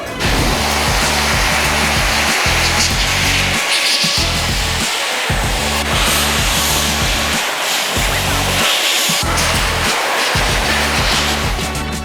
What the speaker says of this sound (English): we take a blow dryer, which will actually take care of the water going off the panels